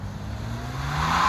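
A BMW 325i E90 launches and accelerates hard, its engine rising in pitch and growing louder over a second and a half, heard close with no talking.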